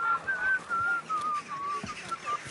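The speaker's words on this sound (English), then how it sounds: "Are you whistling at me?" A character in Kingdom Come: Deliverance 2 whistles a wandering, thin melody of several short phrases over quiet ambient background, fairly close and clear.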